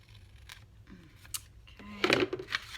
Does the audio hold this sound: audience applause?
no